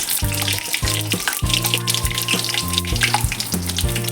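Hot oil crackles and sizzles as mustard seeds, cumin and lentils fry for tempering, under soft background music with steady low notes.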